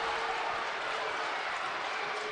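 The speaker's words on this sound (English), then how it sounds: "You can hear the Northwest crowd roaring their approval" A high school basketball crowd at a Wichita Northwest away game against Heights sends up a dense, steady roar mixed with applause. The noise fills the whole moment at an even level, with no single voice standing out.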